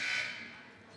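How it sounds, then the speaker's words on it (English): A buzzer at a JV boys basketball game sounds one sustained harsh blare that fades slightly over its second, loud against faint gym background. "Ring that Garrison, buzzer a couple more times"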